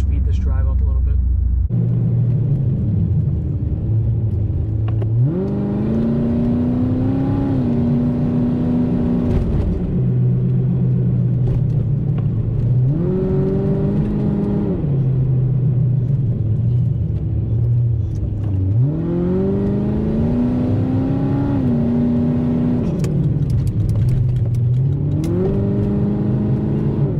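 A car is driven along a route with a continuous close engine rumble, rising in pitch several times as it accelerates through the gears and easing between pulls, with no pause.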